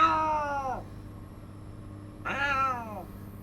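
A cat meows twice, each call clear and close with a falling, drawn-out tone, separated by a short quiet pause over low background hum.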